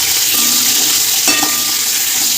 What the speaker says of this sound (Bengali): এদিকে মাছ ভাজা বসিয়ে দিয়েছি